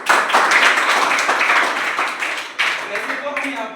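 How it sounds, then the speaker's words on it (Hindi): An audience bursts into loud, sustained clapping at an indoor school Christmas celebration, with voices shouting and chattering through the applause. "पहले एक बार जोरदार ताली मनोज सर की"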